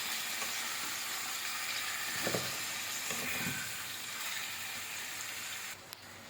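Chicken fries in oil in a pan while being stirred, a close, steady crackling sizzle with a few soft scraping stirs, continuing evenly throughout.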